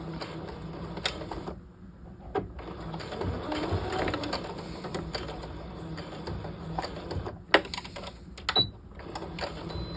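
Sewing machine stitching right along the edge of a half-scale jacket welt pocket, a quiet mechanical whir with small clicks and ticks.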